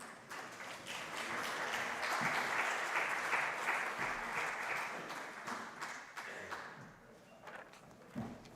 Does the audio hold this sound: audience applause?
yes